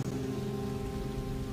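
A steady, even hiss of heavy rain plays as a sound effect within figure skating music for an ice dance free dance at the 2019 Nebelhorn Trophy, with faint musical tones beneath.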